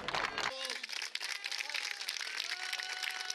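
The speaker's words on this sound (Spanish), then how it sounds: "Vamos rapidito para que lo aplaudan todos" Applause from the crowd at a youth sports award ceremony for an under-14 category, dense clapping that holds steady throughout, with voices talking over it.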